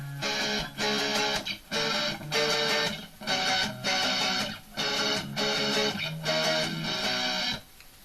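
A guitar power chord, fretted with the ring finger and pinky, strummed repeatedly in roughly one-second bursts with short gaps between, close and fairly loud with no talking.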